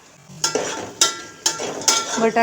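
Potatoes sautéing in a pan for white pulao, with repeated stirring strokes and scraping bursts over a soft sizzle, close and moderately loud, about four distinct stirs in quick succession.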